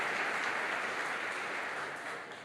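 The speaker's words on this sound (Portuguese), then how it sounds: "Vamos aplaudir o nome do Senhor Jesus." A church congregation applauds in a dense, even wash of clapping that fades slightly at the end, with no speech over it.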